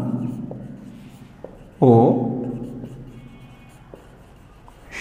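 A teacher writes on a board during a Bengali textbook maths lesson, the faint scratch of writing running steadily under a spoken lesson.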